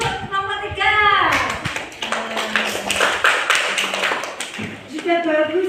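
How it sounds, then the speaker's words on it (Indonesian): Students in a classroom break into a burst of clapping for a group's presentation, the applause lasting several seconds between stretches of a teacher's nearby speech. "Tepuk tangan untuk nomor 3."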